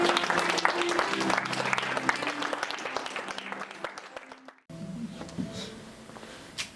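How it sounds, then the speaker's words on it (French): A church congregation at a prayer service breaks into sustained, dense applause for Jesus that fades off and is followed by a quieter stretch of room noise and faint voices. "Acclamons pour Jésus."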